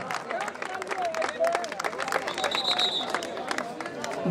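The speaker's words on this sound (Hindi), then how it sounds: "जोरदार तालियों से अभिनंदन करें इस खिलाड़ी का" Crowd at a kabaddi tournament final applauds a player with dense, continuous clapping and murmuring, while an announcer talks loudly over it.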